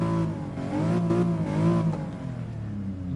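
A car engine in the GT Sport VR racing game revs up and eases back in smooth, rising and falling surges, a steady mid-pitched drone heard on its own with no voices.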